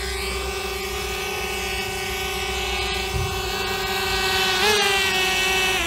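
A DJI Mavic Mini drone hovers and descends to land, its steady high whine constant throughout, with the pitch bending and rising briefly near the end as it settles.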